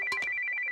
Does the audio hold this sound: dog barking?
no